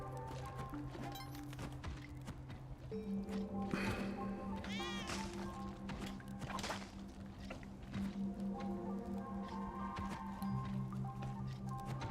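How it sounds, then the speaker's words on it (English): Cat meows from the Spelunky 2 video game, a few short rising calls over looping game music and sound effects, moderately loud. "I heard meow."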